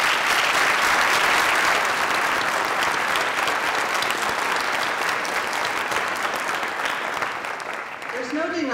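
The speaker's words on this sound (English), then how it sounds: "Please join me in giving them another round of applause" Sustained audience applause at a community college foundation scholarship award ceremony, honoring donors; dense, loud clapping from a large crowd that holds steady for most of the stretch before thinning slightly near the end.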